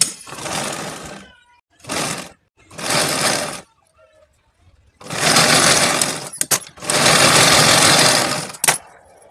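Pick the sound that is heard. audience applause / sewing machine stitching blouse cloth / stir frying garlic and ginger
sewing machine stitching blouse cloth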